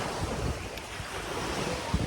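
Sea waves wash steadily onto the beach at a Belek resort on the Turkish coast, a loud continuous roar of surf mixed with wind buffeting the microphone, with no clear talk.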